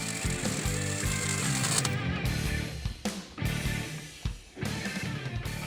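Ratchet wrench tightening a U-bolt plate clamp on a truck suspension during a lowering kit install, repeated rhythmic clicking bursts broken by short pauses, close and fairly loud.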